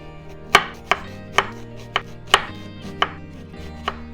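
A knife chops onion into small squares on a board, eight sharp, evenly spaced close-up thuds with a faint hum underneath and no talking.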